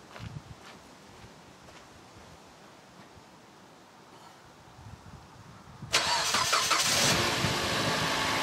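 Car engine cranking and catching during a battery cranking test with a Topdon battery tester; a quiet stretch of faint background noise gives way to an abrupt, loud, broadband engine start that continues steadily to the end.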